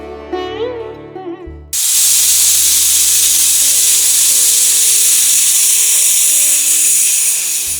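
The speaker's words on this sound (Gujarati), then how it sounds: "હવે ત્રણથી ચાર વિસલ ધીમા તાપે પાકવા માટે મૂકી દઈએ તો દાળ છે આપણી બફાઈ જશે" A pressure cooker of dal lets out a loud, sustained steam whistle that bursts in abruptly and hisses continuously, preceded by a brief stretch of music.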